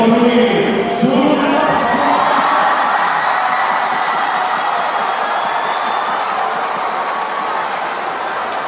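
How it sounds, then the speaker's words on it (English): A large arena crowd roars and cheers at an Asian Games swimming final, the 1500m freestyle, a loud, continuous wash of voices and whoops that holds steady and fades only slightly. "that's a cheer to compete with the cheer of the Indonesian fans behind Prawira"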